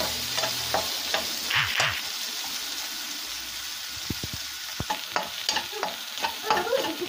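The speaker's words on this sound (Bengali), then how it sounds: "পেঁয়াজটা হালকা ভাজা হয়ে গেছে" Two chopped onions and four or five garlic cloves frying in oil in a pan for a village-style hilsa fish curry, a close steady sizzle broken by bursts of scraping and stirring, with no talking.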